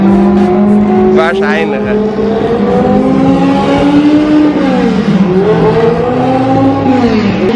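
Race cars accelerate around a circuit at the British Race Festival, a loud, continuous engine roar with rising and falling pitch sweeps as the cars pull away, under steady excited talking throughout.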